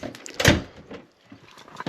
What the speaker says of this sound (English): Shut the bathroom door.